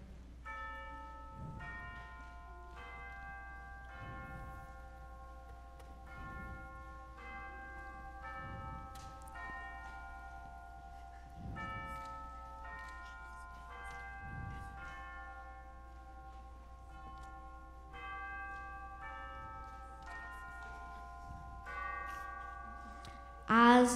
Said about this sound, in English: The bell struck 12.